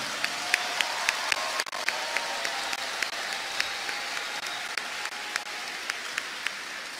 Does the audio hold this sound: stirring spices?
no